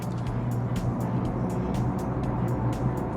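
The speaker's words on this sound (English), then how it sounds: "the truck behind is using engine braking, so is incredibly noisy" A truck uses engine braking inside a road tunnel, making a loud, continuous low roar that fills the space with echoing rumble for the whole stretch.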